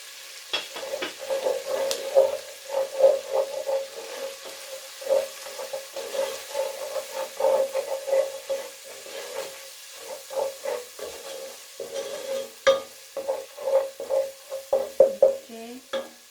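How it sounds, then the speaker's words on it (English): A spice mix is stirred into a sizzling pan of Indian beef curry, with soft frying hiss under repeated scraping and knocking of a spoon against the pan, fairly quiet and without talk. "We'll now add our spice mix."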